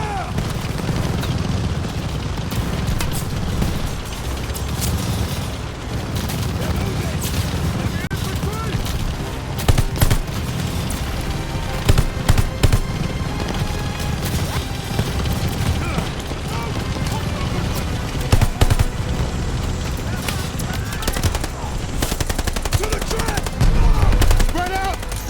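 Machine gun fire in the Call of Duty Vanguard video game during a June 1944 Operation Tonga battle, sustained loud automatic bursts layered with other gunfire and shouting soldiers throughout.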